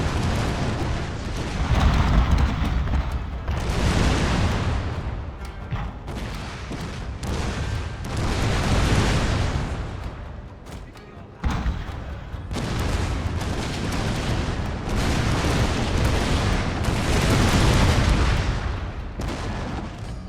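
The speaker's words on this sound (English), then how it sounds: "I'm gonna have to turn that off just so I can not deal with the explosions." Explosions and artillery fire from a Shogun 2 battle roll on continuously in heavy, rumbling waves, with booms overlapping and swelling and fading without a break.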